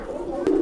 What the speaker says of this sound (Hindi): तो भाई ये कबूतरी ज़रा थोड़ा परेशान हो रही है।